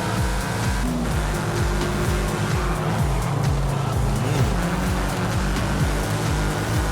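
A tuned 2013 Toyota 86 drifting and overtaking in Forza Horizon 5: a steady, loud engine drone with repeated rising revs and gear shifts, tires hissing beneath, continuous and close with no voices.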